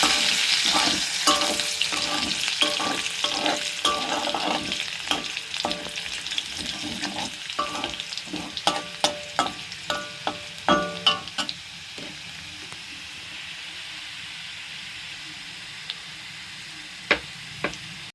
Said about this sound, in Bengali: রসুনটা একটু ভাজা ভাজা হয়ে যাবে